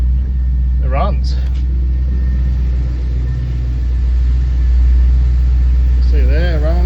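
Barn-find Holden Commodore car engine running after long storage, a steady low rumble close by with a voice talking over it in places.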